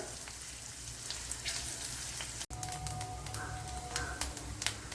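A rajma bean mixture fries in a pan, a soft steady sizzle with faint crackles and a few stir sounds, quiet and close, with a brief dropout midway and no talking.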